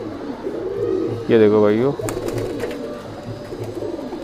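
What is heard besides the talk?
Madrasi pigeons cooing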